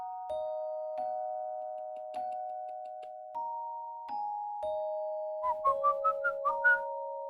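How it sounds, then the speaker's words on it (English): A person whistles a sequence of clear sustained notes, steady tones stepping between pitches and then a quick run of short rising chirps near the end, close and distinct with no talking. "I can whistle quite well. I can whistle really well."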